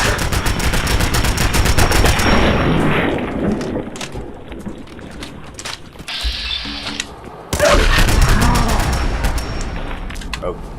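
Rapid automatic gunfire and mechanical weapon clatter in Fallout 4, loud and close in long sustained bursts with a brief lull in the middle before firing resumes.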